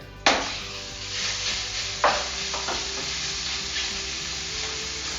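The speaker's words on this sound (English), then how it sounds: "Oh yeah, that's sizzling nicely." Loud, steady frying sizzle in a pot with a couple of sharp bursts as shrimp hit hot oil, crackling continuously throughout.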